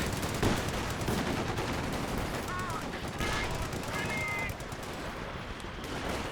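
Machine gun fire from a half-track in Company of Heroes 2, rapid sustained bursts and battle noise forming a dense, continuous wash with brief tonal game sounds layered over it.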